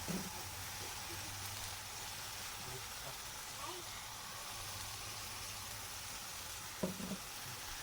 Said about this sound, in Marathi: आता हे दोन्ही चांगलं मिक्स होऊ द्यायचं आणि थोडंसं हे फ्राय होऊ द्यायचं तेलामध्ये, कांद्याची पेस्ट टोमॅटोची पेस्ट